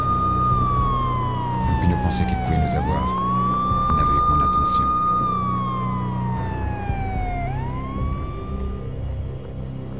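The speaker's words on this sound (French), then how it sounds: "J'entendais le hurlement des sirènes se rapprocher." Police sirens in the video game Max Payne wail loudly and continuously, their pitch sweeping down and back up as they approach, with a voice narrating in French over them.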